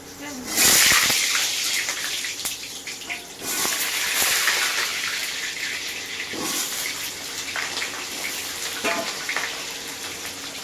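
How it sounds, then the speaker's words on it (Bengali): Potato pieces drop into hot oil in a pan and fry with a loud, steady sizzle and hiss that runs throughout, with a brief burst early on as they go in. A voice speaks over the frying. "এবার তেল গরম হয়ে গেছে এবার দিয়ে দেবো আলু"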